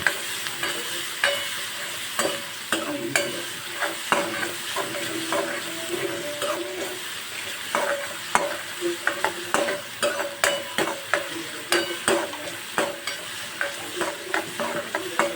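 Two finely chopped onions fry in a pan until golden brown, giving a steady close sizzle broken by frequent clicks and scrapes of a spoon stirring, with no talking.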